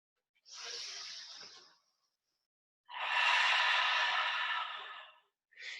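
Deep controlled yoga breaths in a vinyasa flow class: a long breathy exhale, a pause of silence, then a longer, louder rushing breath, close and alone, with another breath starting at the end.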